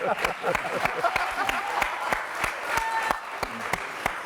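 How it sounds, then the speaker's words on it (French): Young fans clap warmly for former football players, a steady burst of applause with sharp, irregular hand claps close by, filling the whole moment. "des jeunes comme ça qui applaudissent des anciens"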